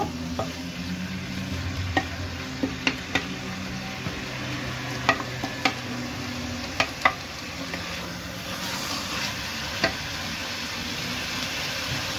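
Spices for chicken biryani frying in a pan, a steady close sizzle with scattered sharp clicks and scrapes of a utensil stirring against the pan throughout, with no talk.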